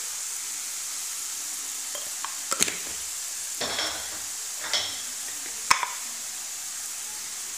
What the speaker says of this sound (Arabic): نخليو هاد البصيله ديالنا حتى هي تشحر